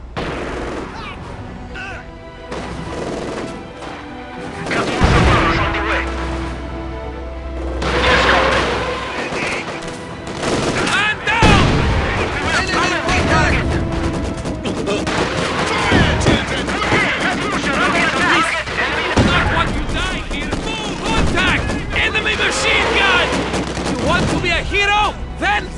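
Artillery shells and gunfire boom and crackle in a Company of Heroes Stalingrad battle, with repeated heavy explosions, bursts of small-arms and machine-gun fire and shouted voices over dense continuous combat noise.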